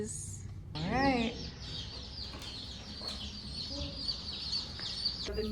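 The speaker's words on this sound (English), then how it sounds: "The new chicks are here." Newly arrived baby chicks peep and cluck from a shipping box just picked up at the post office, a bright, busy chorus running steadily close by with a few louder calls and some handling noise.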